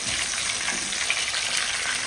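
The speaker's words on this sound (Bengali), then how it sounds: "দেখুন বন্ধুরা খুব সুন্দর করে মাছটা আমি ভেজে নিচ্ছি।" Pieces of katla fish fry in hot oil in a pan, giving a dense, continuous loud sizzle with no talk over it.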